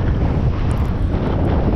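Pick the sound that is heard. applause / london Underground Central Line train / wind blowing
wind blowing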